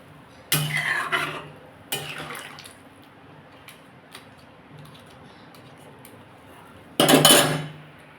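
Metal lid clanks onto a pot of Bengali bata fish curry with potato and papaya, three short bright clatters spread apart, the last one loudest, with quiet kitchen background between and no talking.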